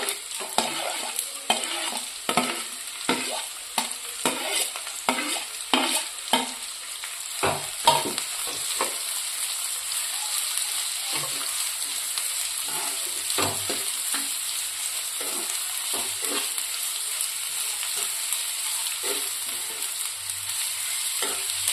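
Onions fry in hot oil in a pan for a restaurant-style egg masala, with a bright constant sizzle and a long run of rhythmic utensil scrapes and taps from stirring, close and loud throughout.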